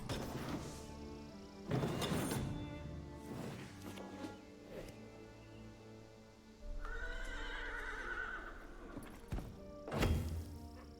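Several loud horse whinnies ring out from an Aggressive Horse Scout card in a card game, one sustained neigh in the middle, with hoof clip-clops and heavy thunks between them.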